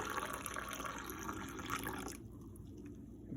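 Coffee brewed in a Chemex is poured from a height into a cup, giving a steady splashing liquid stream that runs loud and close for about two seconds, then stops abruptly, leaving quiet dripping.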